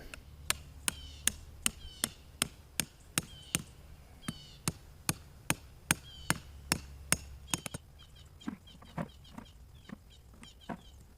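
Small PVC stakes being driven into garden soil, a steady series of sharp, evenly spaced hammer-like strikes that keep a regular rhythm, then grow quieter and more scattered toward the end.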